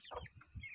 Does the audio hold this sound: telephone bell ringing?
no